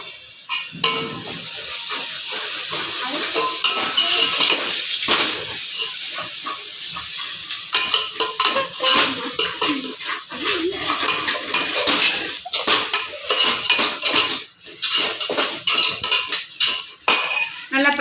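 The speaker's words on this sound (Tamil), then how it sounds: "மிக்சியில் அரைச்சி வச்சது இப்போ நல்லா வதக்கி விட்டுக்கணும்" Ground masala paste for a tilapia fish curry sautéed in a pan, with steady sizzling and frequent clinks and scrapes of a spoon against the metal, close and fairly loud throughout.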